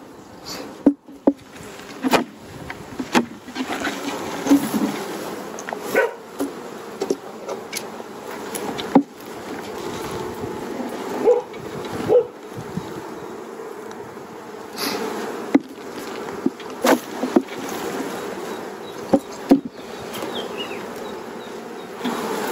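Honeybees buzz in a dense, steady drone around an opened miniplus hive while frames are handled, with sharp clicks and knocks of equipment cutting through close by.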